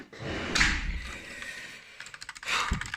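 Typing on a Genesis Thor 300 TKL RGB keyboard with a metal body, two short bursts of close key clatter separated by quieter scattered taps.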